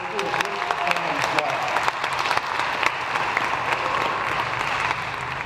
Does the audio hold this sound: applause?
yes